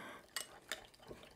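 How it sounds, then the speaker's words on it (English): A spoon scrapes and taps against a bowl while mixing a creamy cucumber salad dressing with vinegar, three quiet distinct clinks over a faint background. "we wanna stir it really well into making like a creamy sauce. I do it with a spoon"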